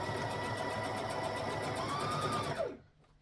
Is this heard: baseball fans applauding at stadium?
no